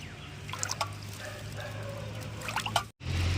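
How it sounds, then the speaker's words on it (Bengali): Cut potatoes being washed, water dripping and trickling with small splashes, close and fairly quiet, cutting off briefly near the end before a low hum resumes. "আলুটা এবার আমি পরিষ্কার করে ধুয়ে এবার তুলে নেবো"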